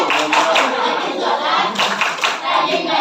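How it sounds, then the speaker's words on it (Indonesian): Children at a school clapping along to the rhythmic "tepuk anak soleh" chant, loud steady hand claps mixed with young voices chanting together. "Ayo, tepuk anak soleh."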